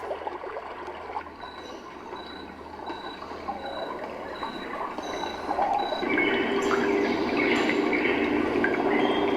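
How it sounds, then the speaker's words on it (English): Steady rushing of a babbling brook from a Roffie N500 sleep sound machine, continuous and fairly close, swelling louder partway through, with faint high chirps above the water. "I'm going to start with one of the brook sounds."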